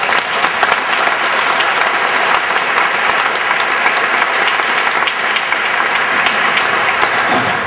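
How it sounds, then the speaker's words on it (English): Loud, dense applause from a crowd at a free clinic's 20th anniversary celebration, sustained and even throughout with no break, close and filling the room. "That deserves a round of applause right there."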